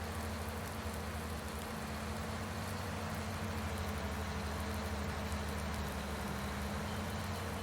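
Steady low mowing-machine engine drone from Farming Simulator 19, running continuously at a constant idle-like pitch throughout, moderately loud and unbroken, with rain-mowing work on a farm field and no voices.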